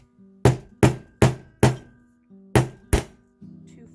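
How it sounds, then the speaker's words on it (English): A hammer strikes wire being shaped for wire-wrapped earrings, six sharp, loud, close taps at a steady pace with brief pauses, then a faint rustle. "so whenever I'm hammering"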